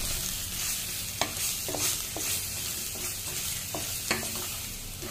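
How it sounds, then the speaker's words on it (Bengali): Pointed gourds, seasoned with turmeric and salt, frying in hot oil with a steady sizzle while a utensil stirs them, giving occasional sharp scraping clicks against the pan; close and moderately loud, no talking. "হালকা হাতে একটু কড়া করে পটলগুলো আমার ভেজে নিতে হবে।"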